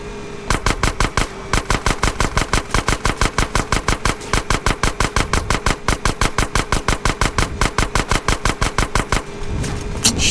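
Rapid automatic gunfire in GTA San Andreas during a drive-by, a long loud unbroken burst of evenly spaced shots lasting most of the stretch, with a brief pause early on.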